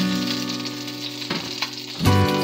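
Vegetables stir-fry in flavored oil with a steady, close sizzle, joined by a low hum and a sharper burst of crackling near the end as more food hits the hot pan.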